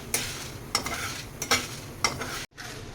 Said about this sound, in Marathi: मंद आचेवर आपण कोरडे असा हा मसाला भाजून घेऊया.